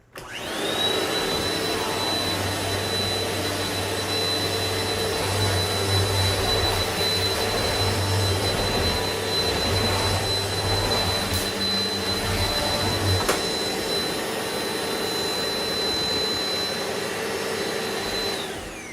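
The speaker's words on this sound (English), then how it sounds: "it powers the vacuum" A vacuum cleaner powered by a DaranEner NEO2000 power station runs steadily for nearly twenty seconds, a loud whining roar with a high tone that starts and stops abruptly, no talk.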